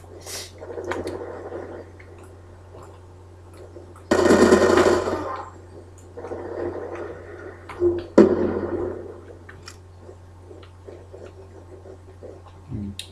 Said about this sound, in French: la mitraillette avec PDW